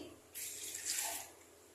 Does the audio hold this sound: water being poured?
yes